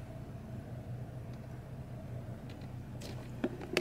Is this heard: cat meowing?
no